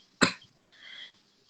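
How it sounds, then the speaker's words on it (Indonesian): A single sharp cough bursts out close by, followed by a short breathy exhale, in an otherwise quiet indoor setting. "Aduh maaf, batuk."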